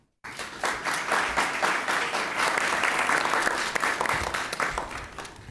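An audience at a televised Haitian talk on the Creole language in Catholic and Protestant worship breaks into dense, sustained applause that starts abruptly and holds steady throughout.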